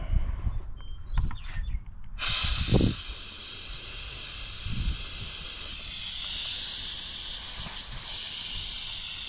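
A HOLT vacuum brake bleeder switches on with a sudden steady hiss of air being drawn through it after a few quiet handling clicks, the hiss continuing evenly and fairly loud to the end.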